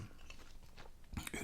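Close, soft bites and chewing of a flank steak sandwich, a few crunchy, moist mouth sounds over about a second and a half, quiet and intimate.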